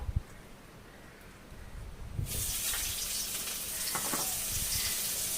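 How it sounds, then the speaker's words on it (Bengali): Chopped onion dropped into hot oil left from frying catfish in a wok bursts into a loud, steady sizzle that starts suddenly partway through and keeps hissing strongly to the end, with a few soft clatters beneath. "মাছ ভাজার তেলটা রয়েছে কড়ায়, এতে আমি পেঁয়াজ কুচি দিয়ে দেবো"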